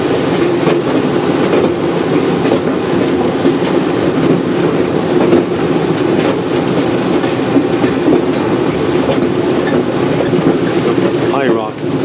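A Ma & Pa Railroad train arriving at High Rock, a steady loud rumble of rolling rail cars with a rhythmic clatter that continues throughout, with speech over it.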